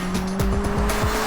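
A Hyundai RN24 electric car's simulated engine noise: a steady synthetic drone with pulsing revs and whine, like a car accelerating through gear changes, loud and continuous with no voices.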